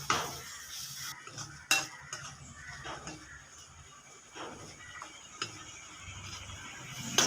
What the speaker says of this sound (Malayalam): മുട്ട ഒഴിച്ച് നന്നായിട്ട് ഇതൊന്ന് ഇളക്കി പച്ചമണമൊക്കെ മാറുന്നവരെ നന്നായിട്ട് ഇളക്കി കൊടുക്കുക.